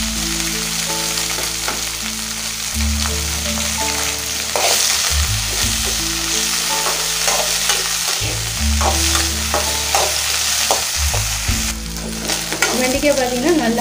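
Okra frying in hot oil in a pan, a steady loud sizzle running throughout, with repeated scraping and stirring strokes of a spatula against the pan, no voices.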